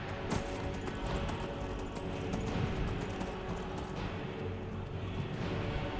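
Horse hooves clip-clopping steadily on a road in the video game Skyrim, a continuous moderate-paced run heard close under a dense game soundscape, no talking.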